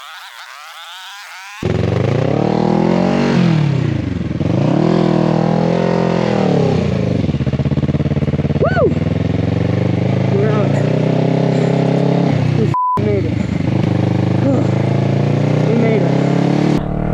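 A motorcycle on new tires runs continuously up close, its engine rising and falling in pitch as it accelerates and slows, with brief wind buffeting.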